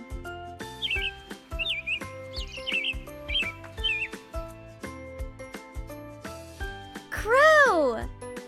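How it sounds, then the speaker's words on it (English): A robin sings in short, bright warbling phrases over steady background music, followed by a louder rising and falling synthesized whoosh near the end. "Robin."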